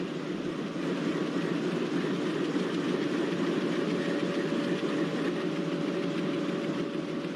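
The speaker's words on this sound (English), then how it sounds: "It is a freight train which is led by ERS WDM 3A locomotive." An Indian Railways WDM3A diesel locomotive drones loudly and steadily as it hauls a freight train past close by at Shivamogga Town, with a faint rhythmic clatter of wheels under the engine rumble.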